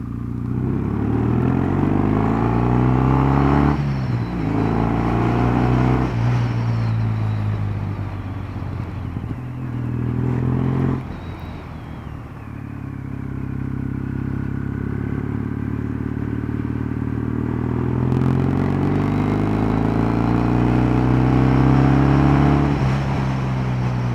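Kawasaki W650 motorcycle accelerating hard up a hill on a Cornwall coast road, loud and close, with rising engine pitch through several gear changes and steady wind rush, no talking.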